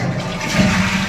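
A Cera brand one-piece western commode flushes in a newly finished bathroom, giving a steady, close rushing swirl of water that swells slightly midway through the short burst.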